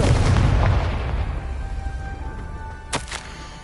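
A Confringo fire spell explodes in the Hogwarts Legacy video game, a loud booming blast at the start that rolls off into a decaying rumble, followed by a short sharp crackle near the end.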